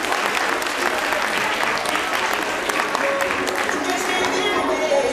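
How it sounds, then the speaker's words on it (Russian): Dense, continuous applause from a crowd fills the hall at a dance competition award ceremony, steady and sustained with no talk on top. "Можно аплодировать, дорогие друзья."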